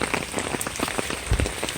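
Heavy rain falling steadily outdoors, a dense continuous patter of drops hitting surfaces, loud and close, with no voices.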